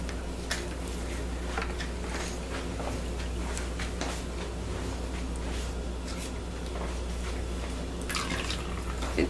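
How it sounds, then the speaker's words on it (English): Lye solution poured into soap oils in a bucket for cold-process soap at room temperature, a continuous liquid trickle with small drips and splashes over a steady low hum, no voices. "So I'm gonna add my lye solution."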